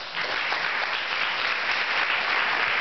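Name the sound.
audience applause at a youth summit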